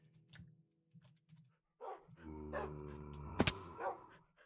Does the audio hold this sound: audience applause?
no